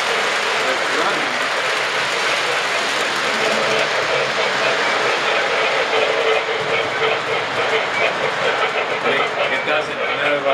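A model 0-8-0 steam locomotive runs continuously with a loud, dense mechanical rush and rapid clattering chuff, close up and steady for the whole stretch.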